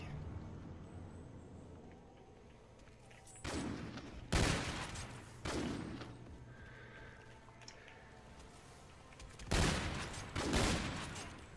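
A few sharp sniper gunshots in a video game ring out in separate bursts over a steady low background hum, fairly close and loud.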